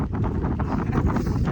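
Strong wind buffets the microphone on an open road during a long-distance bicycle tour in India, a loud, steady roar filling the whole moment with no speech.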